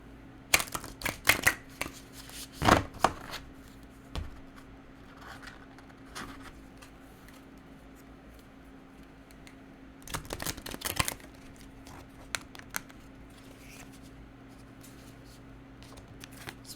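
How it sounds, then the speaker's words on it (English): Tarot cards being shuffled by hand in bursts of quick riffling and flicking, close up, with a busy flurry early on, sparse taps in the middle and another dense riffle later over a faint steady hum. "Okay, let's shuffle these."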